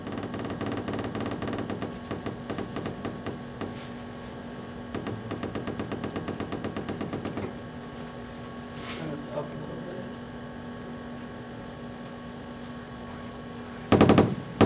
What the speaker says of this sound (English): it essentially just becomes a series of clicks at that point